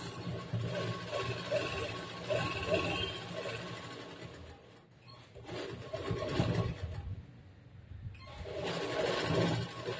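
Sewing machine stitching a blouse, a fast steady whirring run of stitches that pauses briefly and then starts again, with someone talking softly underneath.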